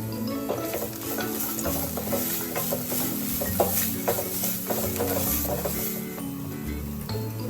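Salt and turmeric being stirred into an amla rice mixture in a pan, a steady scraping and clattering of the spoon against the pan with a faint sizzle running underneath, close and continuous.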